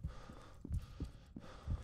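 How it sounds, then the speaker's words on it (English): Video game heartbeat effect in F.E.A.R. 2, a series of low, muffled thumps in a steady slow rhythm, about four beats, loud and close over a faint hum, with no talking. "Why is my heartbeat showing up?"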